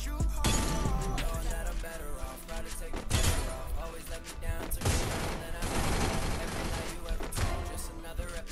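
Rapid gunfire from the mobile battle-royale game Free Fire, dense bursts and volleys running almost continuously under game music and effects, loud and close throughout.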